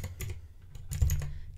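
Keys clack on a 3D printed hand-wired 68-key mechanical keyboard, a short flurry of close, crisp taps in uneven rhythm.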